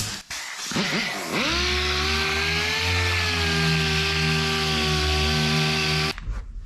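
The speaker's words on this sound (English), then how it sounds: "Just using my 80 grit on my palm sander." Palm sander with 80 grit sandpaper sanding flaky paint off a storm-damaged shop surface: a loud, close motor whine spins up after a brief clatter, holds a steady droning hum for several seconds, then cuts off.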